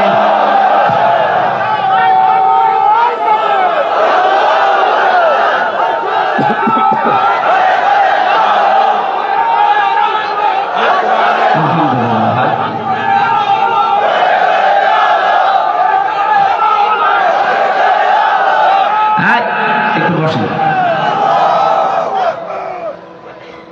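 A large crowd at an open-air Islamic sermon gathering roars the takbir in unison, a loud sustained chant of massed voices that swells and holds for over twenty seconds before tapering off.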